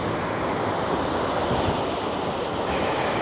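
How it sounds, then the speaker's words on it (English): Water from Kirkjufellsfoss waterfall in Iceland roars as a steady, dense broadband rush, mixed with wind buffeting the microphone, constant and loud throughout with no voices. "So there's the waterfall for Kirkjufell"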